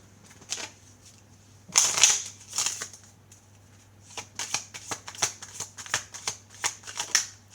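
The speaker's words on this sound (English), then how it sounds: "let's take one more card here" Tarot cards are shuffled close by in quick bursts of papery riffles and slaps, one louder flurry followed by a run of rhythmic shuffles.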